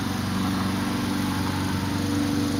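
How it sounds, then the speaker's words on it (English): A neighbor's lawn mower runs steadily in the background, a continuous droning engine hum with a low rumble and no break in level, with no talking over it. "My neighbors started mowing, so I better make this quick."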